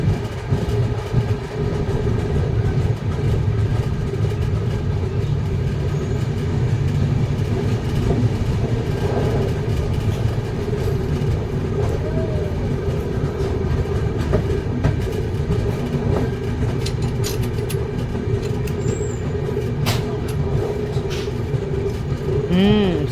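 The 13145 Kolkata–Radhikapur Express stands at Katwa Junction at night, its engine and carriages giving a loud, steady rumbling hum for the whole stretch, with people talking over it and a few brief squeals and clanks.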